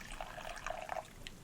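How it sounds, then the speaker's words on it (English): Homemade ambrosia drink pours into a glass, a brief, faint gurgling trickle with small drips, close by and without talk. "I'm going to go on and pour me some of that ambrosia made by Brother"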